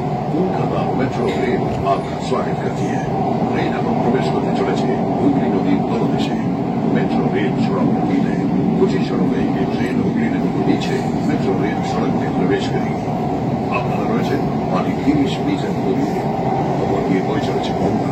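A Kolkata Metro Green Line train runs through the tunnel beneath the Ganges, heard as a loud, continuous rumbling roar from inside the carriage, with people talking over it.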